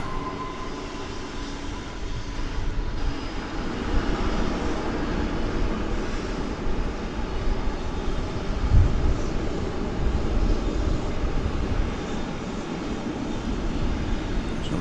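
A Lufthansa Cargo plane arrives at night on the east side of DFW Airport, its engines a steady, broad roar that swells slightly and holds without a break, heard from a moderate distance with no talking.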